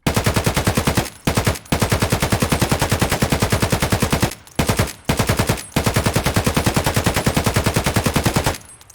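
An AK-103 rifle in the video game Escape From Tarkov fires loud, close sustained full-auto bursts of rapid, even shots, broken by several short pauses between strings.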